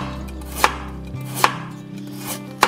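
A knife finely cuts green onion into thin strips on a board, three sharp, separate chops spaced under a second apart over a low background hum.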